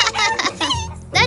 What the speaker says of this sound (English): I don't believe it! It's another chicken?